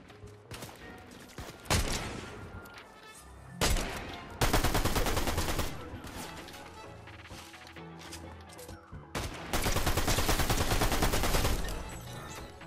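DMR rifle gunfire in the video game Fortnite: several sharp, loud volleys of rapid shots in separate bursts, with quieter gaps and faint game sounds between them.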